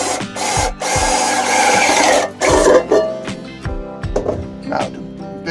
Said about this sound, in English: Now the bit I have in the drill is a step bit